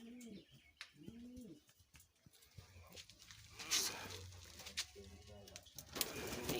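A pair of large fancy King pigeons coo in short rounded bursts, with faint chirps and background voices and farmyard noise nearby.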